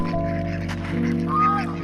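Geese honk and squawk close by at Bukit Jelutong Eco Community Park in a few short nasal calls, with a voice talking faintly underneath.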